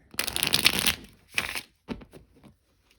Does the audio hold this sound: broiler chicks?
no